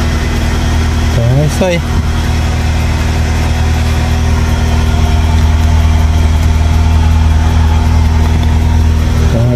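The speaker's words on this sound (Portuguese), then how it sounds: "Agora vamos dar a partida" A Fiat Palio Weekend engine idles steadily and fairly loudly throughout, a continuous low hum with a brief tonal sweep early on, while someone speaks briefly over it.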